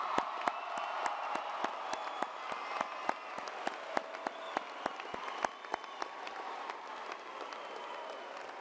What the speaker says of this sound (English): A round of applause for the class of